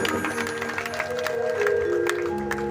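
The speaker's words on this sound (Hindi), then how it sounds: "एक बार जोरदार तालियों बजा करके मनवार करो मेरे बाबा की" Audience clapping at a Khatu Shyam devotional jagran, a dense steady wash of hands from a large crowd under sustained musical tones, close and continuous throughout.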